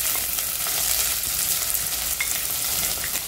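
Onions fry in hot ghee with mustard seeds and cumin, a steady dense sizzle with small crackles and pops, close and continuous, with no talk.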